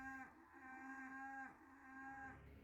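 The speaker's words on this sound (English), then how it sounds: "Suddenly in the distance I could hear mooing and cows calling." Cattle mooing in the distance at night: a few faint, drawn-out, low calls in quick succession, alone and with no talking.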